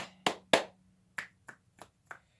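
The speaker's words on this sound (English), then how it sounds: "And some clap snaps to check" Seven sharp hand claps and finger snaps in an uneven rhythm, the first two loudest and the later ones lighter, made during a seated stretching session, close and clear against a faint low hum.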